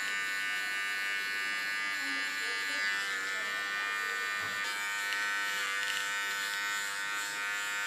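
Small electric hair clipper trimming a hairline, a steady close buzzing hum that runs unbroken for several seconds.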